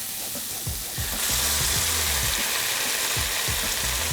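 Jackfruit pieces sizzling in a hot pan as they are tossed, a bright frying hiss that swells after a second, with soft knocks and scrapes from the stirring.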